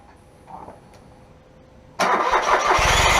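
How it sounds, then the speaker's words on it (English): A Smart 451 car with a repaired exhaust leak cranks briefly after quiet clicks, then catches and fires into a loud, rough idle close by, the engine running steadily to the end. "And then I'm just gonna start the car."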